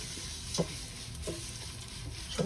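Vermicelli frying in a pan is stirred constantly. A soft sizzle runs throughout, and a few distinct scraping strokes of the stirring utensil sound fairly close and quiet.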